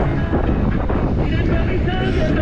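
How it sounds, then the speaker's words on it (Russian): Strong summer wind buffets the microphone outdoors on the Crimean coast, a loud, continuous rumbling roar with no break throughout. "Ветер гребаный."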